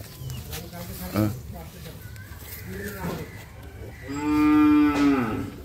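A local-breed bull on a farm moos twice, a long low harmonic bellow near the end following a shorter call, with people talking around it in a rural setting.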